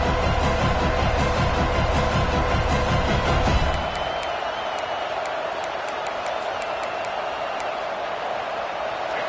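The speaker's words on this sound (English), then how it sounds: "This crowd ready to make its presence known." Roaring stadium crowd cheering in the College Football 26 video game, loud and dense at first, then settling to a steadier background roar with faint whistles after a few seconds.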